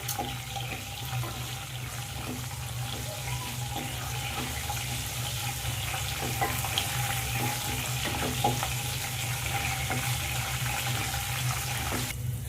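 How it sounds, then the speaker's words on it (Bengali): Steady sizzling of spices frying in a pan for achari mutton, with faint scraping and stirring sounds over a constant low hum. "এবার হালকা করে আমি মশলাগুলো সব ভেজে নেব।"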